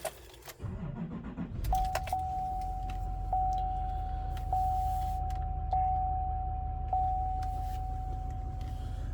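A 2018 GMC Sierra 2500HD Denali pickup's engine cranks and catches after a jingle of keys, then settles into a steady, close idle with a faint repeating chime over the rumble.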